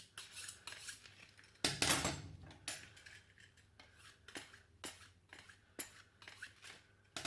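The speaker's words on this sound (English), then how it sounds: "This is my little 8-inch trimming knife." An 8-inch trimming knife works through venison on a butchering surface, giving a series of close, sharp scraping and tapping strokes with one louder clatter early on, all without talk.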